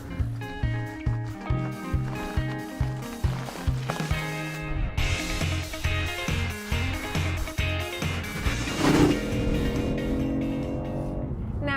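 A small engine revs hard and pulls up through the gears, its note rising and dropping with each shift, loud and close with a raspy exhaust.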